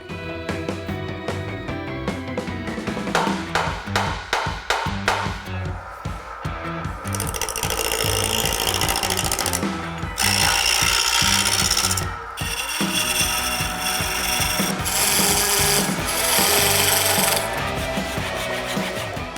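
Wood spinning on a lathe on a drive center with a tool scraping and cutting, roughing it to about 3 inches round, first in rapid rhythmic chatter, then in long continuous rasping passes with brief breaks.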